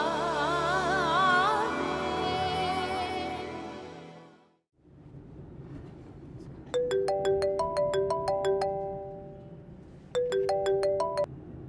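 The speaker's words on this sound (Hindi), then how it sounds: "हेलो, खैरियत शहजाद, इतनी सुबह को क्यों कॉल कर रहे हो?" A mobile phone ringtone plays twice for an incoming call in a drama scene, a bright repeating melody in two bursts, after a swelling musical passage fades out.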